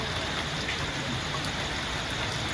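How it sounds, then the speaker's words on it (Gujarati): Heavy rain falls steadily throughout, a dense continuous hiss of drops with no talk over it. "વરસાદ આટલો બધો પડે છે"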